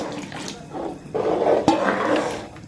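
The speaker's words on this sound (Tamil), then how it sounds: "தேவையான அளவு தண்ணி ஊற்றிக்கணும்." Water pours steadily into a cooking pot of Chettinad chicken curry, a loud continuous splashing rush that swells midway and carries on to the end with no talk.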